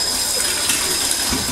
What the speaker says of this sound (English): So I'm going to use that to add the cold water.